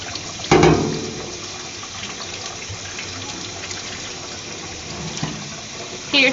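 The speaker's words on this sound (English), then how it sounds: "Run some more hot water" Hot water runs steadily from a tap for several seconds while a chocolate fountain is cleaned, a soft continuous rush with a louder splash near the start and another at the end.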